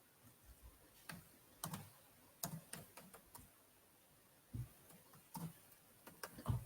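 Typing on a computer keyboard, heard as scattered bursts of sharp key clicks in irregular clusters with pauses between them, fairly faint and close, with no talking.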